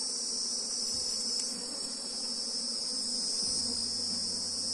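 An opened hive box of swarm-prone honeybees gives off a dense, steady buzz close by, continuous and even, with no voices.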